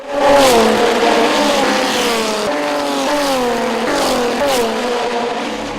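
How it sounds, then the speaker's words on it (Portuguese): Old racing cars such as Pumas roar around the Interlagos circuit, engines loud and close, revving and shifting pitch as they pass one after another, with no voices. "Nesse treino, a categoria só recebe carros antigos, como Palas, e apesar dos anos a mais, o motor não deixa a desejar."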